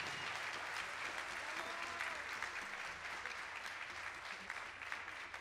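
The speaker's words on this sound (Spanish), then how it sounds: "un fuerte aplauso para la orquesta, para su cumpleaños" Audience at a municipal orchestra concert applauds the orchestra on its sixth anniversary, a continuous, dense round of clapping at an even level throughout, faint and roomy with a few scattered voices beneath.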